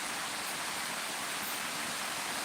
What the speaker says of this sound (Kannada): ಮಳೆ ಬರ್ತಾ ಉಂಟು ಇಲ್ಲಿ ಜೋರು.